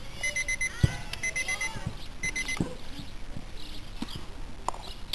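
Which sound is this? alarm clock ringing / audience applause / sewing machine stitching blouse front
alarm clock ringing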